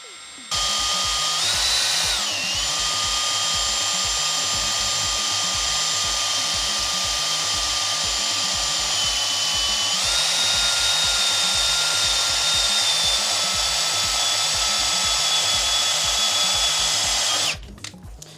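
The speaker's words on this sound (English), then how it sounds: "So now we can cut straight into our plate." A power tool drills and taps holes into a metal bed plate for a custom 3D printer's heated bed, using cutting fluid; a steady high motor whine runs for about seventeen seconds with a pitch shift partway, then stops.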